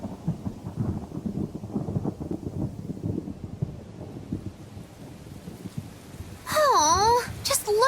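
Rain and rumbling thunder from the video game Tales of Berseria roll under character dialogue, a low storm wash that swells into a loud burst near the end.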